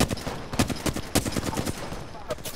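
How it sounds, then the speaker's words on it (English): Gunfire in Apex Legends, a dense, continuous run of rapid automatic shots and impact cracks packed closely together, loud and unbroken for the whole stretch. "Getting shot up by the other one now."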